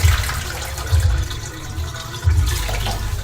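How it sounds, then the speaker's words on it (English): Water pours and sloshes through aquarium substrate in a tub, with low gurgling swells at regular intervals as the gravel is rinsed through a fine strainer, close and steady. "And there's our initial first rinse of the substrate."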